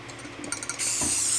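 An aerosol can of spray paint hisses onto pen parts in a sudden loud, steady burst after a few short rattling clicks, continuing to the end.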